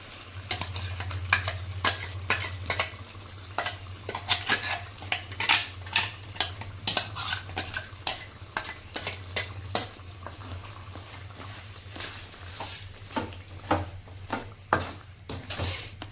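Ground masala paste frying in released oil for chicken gravy, with a steady low sizzle under frequent sharp clinks and scrapes of a spoon stirring the pan, close and continuous.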